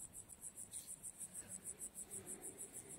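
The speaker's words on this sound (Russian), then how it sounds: "Кузнечики еще стрекочут." Grasshoppers chirping at the end of summer in a flowering meadow beside an apiary, a steady high buzzing pulse repeating about four times a second, moderately close and continuous with no voices.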